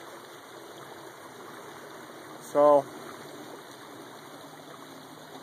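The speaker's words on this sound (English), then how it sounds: "It's really a nice deep river. That's the American River" Steady broadband rush of the deep American River flowing outdoors, a continuous even stream sound throughout, with one brief word spoken near the middle.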